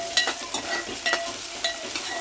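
Chopped tomato being stirred and sautéed in a pan for fenugreek leaf curry, with a steady close sizzle and several sharp scraping stirs at an uneven rhythm, no talking.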